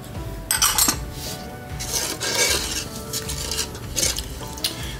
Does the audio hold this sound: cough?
no